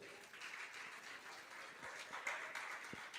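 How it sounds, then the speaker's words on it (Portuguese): A church congregation applauds during a sermon, a steady wash of clapping held at an even moderate level throughout, with no voices rising above it. "Você pode aplaudir o Senhor?"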